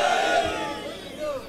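A large crowd at a Shia majlis mourning gathering in Multan shouts a religious slogan together, a loud, sustained collective cry that fades and then swells again.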